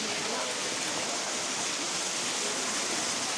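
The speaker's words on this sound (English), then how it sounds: "It's an old waterway. It's like a channel of water running along here." Water flowing steadily along an old stone waterway channel in Kyoto, a continuous close rushing wash with no breaks and no voices.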